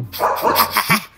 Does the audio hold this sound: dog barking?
yes